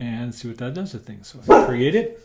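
Dog barking and yipping indoors at home, a sharp loud bark bursting out near the end while someone talks calmly over it.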